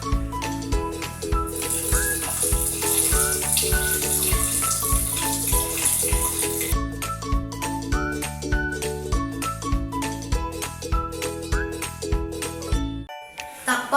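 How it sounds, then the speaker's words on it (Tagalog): Water streams into a pot of washed rice in a steady, continuous pour with light splashing, while gentle background music with chiming tones plays throughout. "Pagkatapos hugasan, lagyan na ito ng tubig na naaayon sa tamang sukat."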